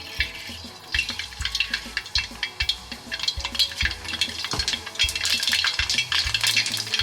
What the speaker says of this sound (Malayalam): നമുക്ക് കടുക് പൊട്ടിച്ചെടുക്കാം.